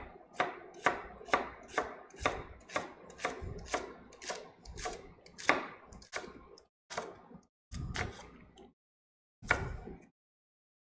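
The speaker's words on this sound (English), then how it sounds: "when I cut through like this, I'm going to have nice slivers of shallot ready to go" A kitchen knife cuts shallots into thin slivers on a cutting board, a quick run of crisp, evenly spaced chops that slows toward the end with a few final strokes after short pauses.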